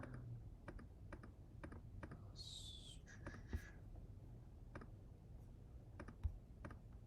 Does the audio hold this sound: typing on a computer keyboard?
yes